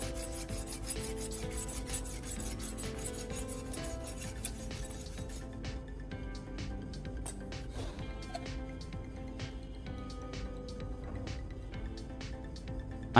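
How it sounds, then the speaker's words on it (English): A knife blade is drawn across 800 grit sandpaper in light, even strokes, making a close, steady scraping rasp that continues through the whole stretch with no voices. "I'm continuing with the 800 grit, using light, even strokes."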